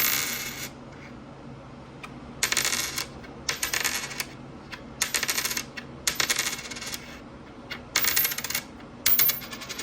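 Bright, high metallic tings ring out as a 1975 Denver nickel is dropped repeatedly onto a table, about eight separate close strikes spaced through a quiet room.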